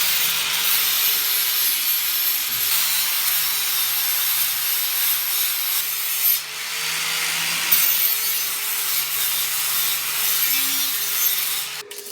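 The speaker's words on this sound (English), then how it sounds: "And here I started to grind everything down and make things look pretty." Angle grinder grinding down welds on a metal chair frame, a continuous harsh abrasive rasp with slight pitch dips as pressure shifts, close and steady throughout, no talking.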